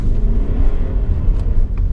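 A remapped Honda CR-V takes a tight country-lane corner in first gear, its engine a loud, steady low rumble heard from inside the cabin with a constant drone throughout.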